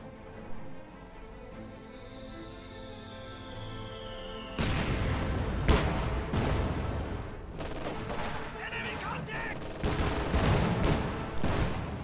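A video game battle erupts with mortar impacts and gunfire: after a quieter stretch, sharp, loud bursts of shots and booming blasts arrive in rapid, irregular succession and continue in heavy, overlapping volleys.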